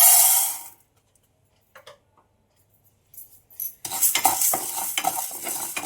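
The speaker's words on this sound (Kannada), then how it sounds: "ಒಂದು ಕಾಲು ಕಪ್ಪಷ್ಟು ಕಡಲೆಬೇಳೆ ತೊಗೊಂಡಿದ್ದೀನಿ ಅದನ್ನು ಇವಾಗ ಡ್ರೈ ರೋಸ್ಟ್ ಮಾಡ್ಕೊತೀನಿ" Chana dal dry roasting in a pan, a close rattling and stirring scrape, a brief burst at the start, then near silence broken by faint taps, and steady loud stirring from about four seconds on.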